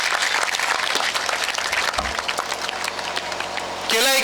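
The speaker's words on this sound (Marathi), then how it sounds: "थोड्याशा टाळ्या वाजवू शकता तुम्ही." A crowd at a speech gathering claps to welcome the arriving speaker, steady many-handed applause with voices mixed in, ending abruptly as a louder burst of other sound cuts in.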